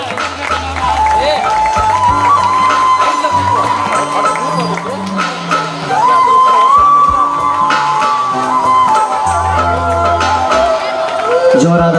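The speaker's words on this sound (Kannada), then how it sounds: "ಜೋರಾದ ಚಪ್ಪಾಳೆ ಮೂಲಕ ಪೂಜ್ಯರಿಗೆ ಗೌರವಿಸಬೇಕು" Loud applause from a large crowd at a religious temple fair gathering honouring revered pontiffs, a steady sustained clapping with some cheering and background voices throughout.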